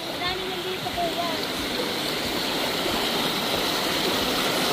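Water flowing in a stream near a hut gives a steady, close rushing sound throughout, with faint voices underneath.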